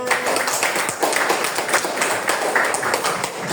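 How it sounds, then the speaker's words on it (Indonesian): Classroom group of students clapping for a presenting team, a dense, steady patter of hand claps with some voices mixed in, close and fairly loud throughout. "tepuk tangan"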